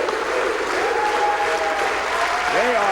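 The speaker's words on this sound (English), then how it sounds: "Sends this huge crowd in Tacoma into a frenzy." A huge bowling crowd in Tacoma cheering and applauding a perfect 300 game in the semifinals, dense sustained applause with whoops and shouts, loud and continuous throughout.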